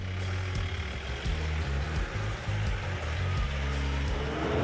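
An off-road vehicle's diesel DI engine labours up a mucky slope, a deep, close rumble that surges and drops as the revs rise and fall under load.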